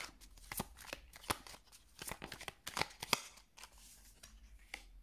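Someone cuts a deck of tarot cards during a reading, producing quiet, close papery snaps and flicks in an irregular series over a soft background hum, with no speech.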